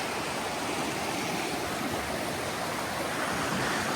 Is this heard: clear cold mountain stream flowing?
yes